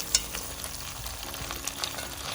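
Chicken back sizzles and crackles steadily in a pot, with a soft clink near the start and faint stirring noises, close and moderately quiet.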